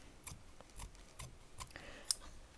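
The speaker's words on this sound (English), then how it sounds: "I'm not going to use a rotary cutter because most of you might not have one of those. And that is okay. So I'm going to carefully cut across." Scissors cutting across 100% cotton fabric, a handful of short crisp snips spaced irregularly, close and fairly quiet with one brighter click near the end.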